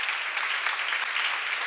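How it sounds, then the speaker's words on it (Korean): A church seminar audience claps steadily, dense, even applause filling the room without pause. "박수를 하세요."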